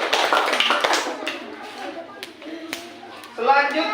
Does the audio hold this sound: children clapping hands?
yes